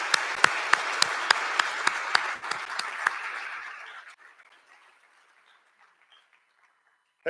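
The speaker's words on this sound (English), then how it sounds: "Let's give a round of applause to these groups of individuals and their support." Audience applause at a Tempe All City Awards ceremony, a dense wash of clapping with a few sharp individual claps standing out, holding steady for about four seconds before thinning and dying away to near silence.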